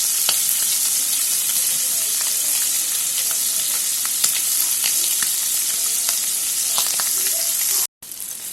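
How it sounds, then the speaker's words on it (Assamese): Boiled pork frying in a kadai, rendering its own fat, gives a steady, close sizzle with scattered pops and crackles, ending in a brief dropout. "এতিয়া মাংসটো বইল কৰি আমি কেৰাহী দি দিছোঁ। মাংসৰ পৰা অলপ তেল ওলাবলৈ দিছোঁ।"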